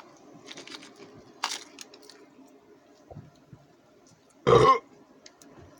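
A single short, loud burp after eating an MRE veggie lasagna ration, standing out clearly above quiet rustling and small handling noises.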